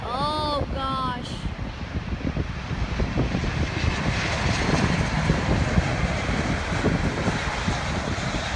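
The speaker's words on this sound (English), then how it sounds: "It's a KLM 777 coming from Amsterdam." A KLM Boeing 777 airliner from Amsterdam passes overhead, a loud, broad jet roar that swells and holds near the listener, with wind buffeting the microphone and a brief voice early on.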